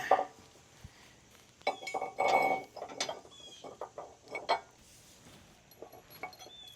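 Metal bolts with lock washers are fitted and hand-tightened on an RV hitch, giving scattered close clicks, ratcheting and clanks of hardware at irregular intervals, with no talking.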